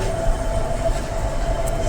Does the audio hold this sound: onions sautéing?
no